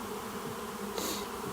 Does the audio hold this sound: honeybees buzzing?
yes